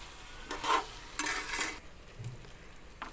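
Egg fried rice is stirred in a hot pan, with a few scraping, shuffling strokes over a soft sizzle, close up and without talk.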